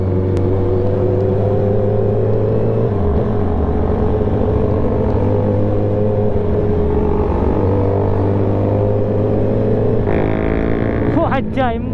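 Kawasaki ZX10R motorcycle engine held at a steady high drone during a wheelie on a group ride, loud and close, with pitch shifts and a rising rev near the end, while people talk over it.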